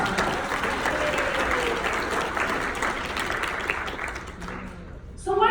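Sustained applause from a seminar audience, a steady roar of many hands that fades near the end as a speaker's voice cuts back in.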